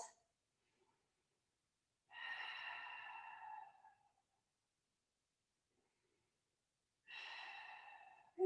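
Someone breathes during a floor stretching exercise, with two slow, audible breaths several seconds apart that are close, breathy and soft, separated by silence.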